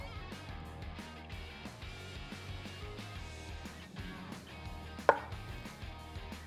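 A knife trims heavy sinew and skin off a raw pork butt: soft, steady slicing and scraping strokes close by, with one sharp knock of the blade near the end and no talking.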